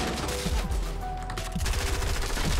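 Rapid bursts of gunfire from a Fortnite match rattle out in quick succession, dense and punchy over a couple of seconds, mixed with game effects and no talking.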